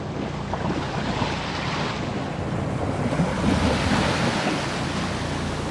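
Strong ocean waves surge and crash steadily off an island shore, a loud continuous roar with heavy wind buffeting the microphone and no voices.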